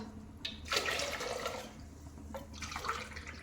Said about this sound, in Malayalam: അങ്ങനെ നമ്മൾ 6 ഗ്ലാസ് വെള്ളം ഒഴിച്ച് കൊടുക്കണം